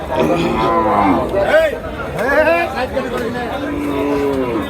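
Heavy heifers at a Bangladeshi cattle market moo loudly and close by, several long drawn calls in a row over a background of crowd chatter.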